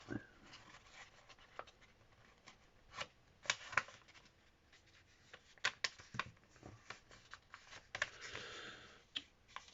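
Paper being folded in half for an origami packing box, faint close crinkling and rustling with irregular soft taps and creasing sounds.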